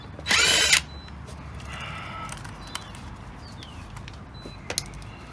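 A power drill whirs in one loud, short burst while unscrewing a mobility scooter wheel, followed by quieter handling clicks and light rattles, with no one speaking.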